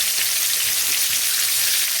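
Chicken wings fry in hot oil with a steady, dense hiss of sizzling that stays constant and close with no other sounds.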